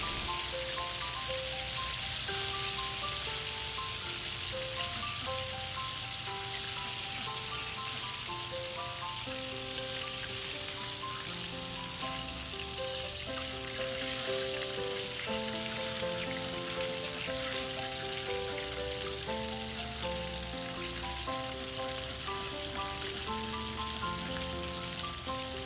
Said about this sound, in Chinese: 炸鸡腿出锅之后，我们要趁热放入前面做好的明虾粉啊。